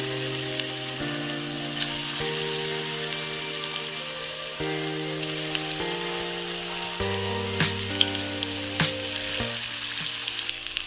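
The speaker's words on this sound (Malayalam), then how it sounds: "ഇനി നമുക്ക് ഓരോന്നായിട്ട് വറുത്തെടുക്കാം." Vegetable vada batter frying in hot oil over a high flame crackles and sizzles steadily and close, like light rain, with occasional sharper pops and spoon clinks under a sustained tonal background.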